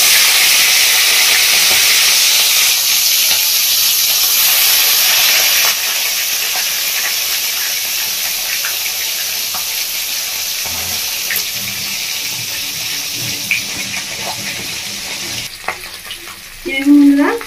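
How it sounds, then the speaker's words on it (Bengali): Rohu fish head frying in hot oil in a wok, a loud, close, continuous crackling sizzle that eases partway through, with clinks from a utensil near the end and no voices. "দেখুন বন্ধুরা, তেলটা গরম হয়ে গেছে কড়ার মধ্যে। তো আমি এবার মাথাটা ভেজে নেব।"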